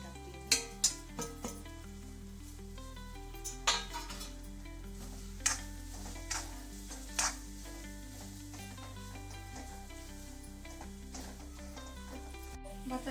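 Spices frying with onion and tomato in a pan while being stirred, with a steady low sizzle and several sharp clinks of a spoon against the pan at irregular intervals, close and fairly quiet, without talk.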